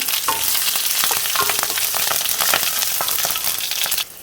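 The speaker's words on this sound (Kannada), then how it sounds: "ಸಾಸಿವೆ, ಜೀರಿಗೆ ಹಾಗೂ ಇಂಗು ಹಾಕ್ಕೊಳ್ತಾ ಇದ್ದೇನೆ. ಜೊತೆಗೇನೆ ಕರಿಬೇವು ಕೂಡ. ಅದು ಸಿಡಿಲಿಕ್ಕೆ ಶುರು ಆಗ್ತಾ ಇದ್ದ ಹಾಗೇನೆ" Mustard seeds, cumin, asafoetida and curry leaves splutter in hot oil, a close, busy crackle of sharp pops over a steady sizzle that cuts off abruptly at the end.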